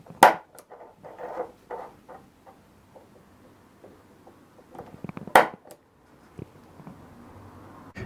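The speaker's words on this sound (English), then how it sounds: "Ready for center punching." A hammer center-punching metal rings out in two sharp metallic taps, one at the start and another a few seconds later, with faint workshop clatter and rustling in between.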